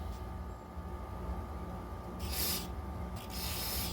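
Aerosol carburetor cleaner sprayed into the jets of a Yard Machine lawnmower carburetor clogged with sand, giving two close bursts of loud hissing spray over a steady low background hum.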